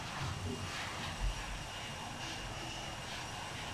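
Airliner jet engines roaring during a takeoff roll in a flight simulator game, a steady, dense broadband rumble and hiss that holds at a constant level throughout.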